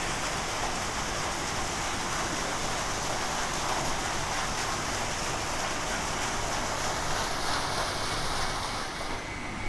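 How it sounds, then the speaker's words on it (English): Brewery mash auger beater turning, mixing grist with sparge water, a steady wet churning wash of sound that holds constant throughout with no voices. "there's an auger beater in here which mixes the two together to produce a fine mix of sparge and grist"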